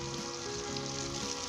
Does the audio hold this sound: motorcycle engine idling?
no